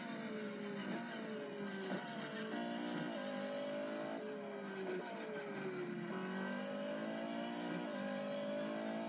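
Corvette C7.R race car in a racing game, its engine note dropping under braking and climbing again through a series of corners, loud and close, with gear shifts and steady revving throughout.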